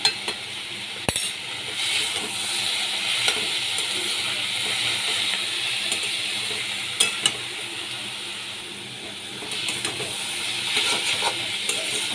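Cabbage curry with spices sizzles steadily in a pan, a continuous frying hiss with scattered scrapes and clinks of a spoon stirring, close and fairly loud with no talking.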